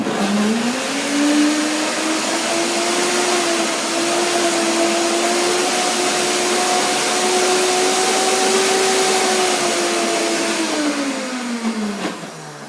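A blender whirs continuously for about twelve seconds blending juice for a raw blueberry pie, its motor pitch climbing slightly and holding steady, then winding down as it switches off.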